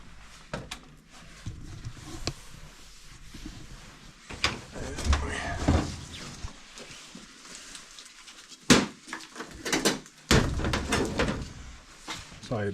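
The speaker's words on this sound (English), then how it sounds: "you take off the top door." Metal access panel removed from the top of a WaterFurnace 7 Series heat pump, with scattered clunks and rattles of the door coming loose amid someone talking.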